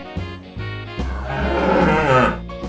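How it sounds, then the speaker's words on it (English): A brown cow moos loudly and close, a single long drawn-out call with a rising, roaring middle, heard alone. "And whoa, wow, brown color cow."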